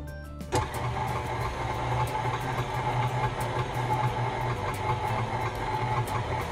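An electric mixer runs at low speed, beating buttercream frosting of sugar and heavy whipping cream. The steady motor whir switches on abruptly after a brief moment and hums on evenly and unbroken.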